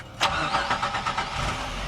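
A Jeep engine with a newly fitted starter cranks in a quick run of rhythmic pulses after a sharp initial catch, then fires up. The sound is close and fairly loud, with no voices.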